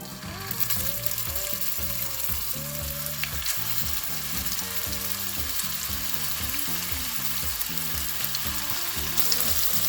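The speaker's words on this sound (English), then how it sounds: "we are going to continue to let these cook until they are brown on each side" Meatballs frying in a blend of avocado and olive oil for a keto meatball sub, sizzling steadily and loudly up close, with a soft repeating tonal pattern underneath throughout.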